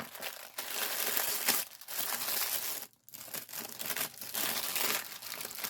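Crinkling and tearing of paper-style plastic-free packaging on a Star Wars Vintage Collection Speeder Bike and Scout Trooper toy, close and fairly quiet, in irregular bursts with short pauses between handling sounds.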